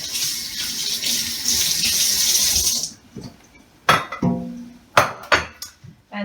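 Kitchen tap water pouring steadily into a pot while chicken is rinsed, a close splashing rush for about three seconds that stops abruptly, followed by several sharp clanks and knocks of the pot being handled.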